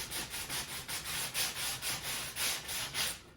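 Steady back-and-forth rubbing of sandpaper on wood, about a dozen rhythmic strokes, close and moderately loud, with no talking.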